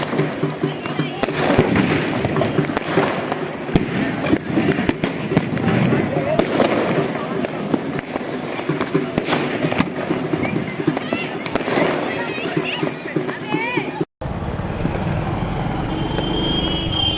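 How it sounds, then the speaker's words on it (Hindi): Diwali fireworks and firecrackers going off near Shahi bridge in Jaunpur by the Gomti river, a dense stream of pops and crackles at middle distance under crowd noise and nearby talk, with a brief cut near the end. "शाही पुल की तरफ देख सकते हैं आतिशबाजी उस तरफ हो रही है, काफ़ी पटाखे वहाँ पे जलाए जा रहे हैं"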